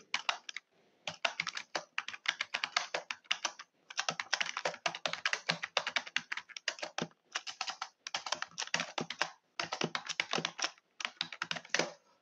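Steady close typing on a computer keyboard during a Microsoft Word tutorial, with fast bursts of clicking keystrokes separated by short pauses, crisp and alone without any talking.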